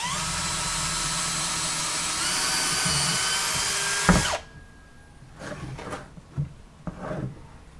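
A power drill bores a hole through a wheelbarrow handle, a loud steady whine for about four seconds before cutting off, followed by quieter scrapes and knocks of handling.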